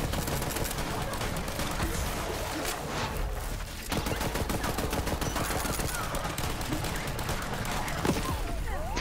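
Rapid, continuous gunfire from a gun in Borderlands 3: dense, loud bursts that run almost without a break for about nine seconds, with a brief dip in the middle.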